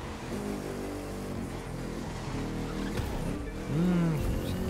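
A Bugatti Chiron cruises in The Crew 2, its engine a steady droning hum with a brief rising rev near the end, under faint background game ambience.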